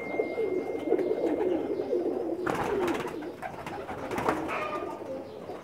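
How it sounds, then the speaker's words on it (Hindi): Soft cooing of Pakistani pigeons repeats beneath a steady outdoor murmur, with brief rustling bursts midway through. "ये अभी दूसरा कबूतर जो उस्ताद भुट्टा फरूक आपको शौक़ कराते हुए"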